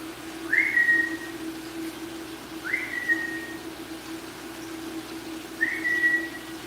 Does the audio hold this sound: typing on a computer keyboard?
no